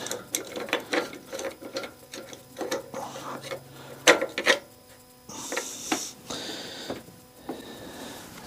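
Ratchet tightening bolts while mounting parts on a generator, heard as repeated rapid clicking and rasping bursts, close and fairly quiet, with a couple of sharper metallic knocks midway.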